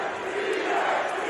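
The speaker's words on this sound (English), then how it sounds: "The crowd let you know what happened." A Dodgers baseball stadium crowd roars for a strikeout against the Astros, a dense, sustained wall of cheering with no break across the moment.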